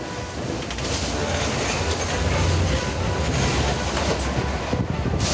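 A subway train runs along an above-ground stretch with its cab windows open, letting in a loud, steady rush of wind and wheel rumble with faint rail clatter, constant and close throughout.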